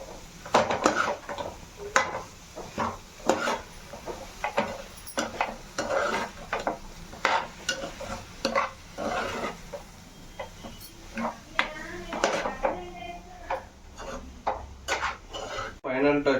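A spoon scrapes and clatters steadily around a pan of potato fry with coriander, sizzling in the background, with repeated rhythmic strokes and a little talk.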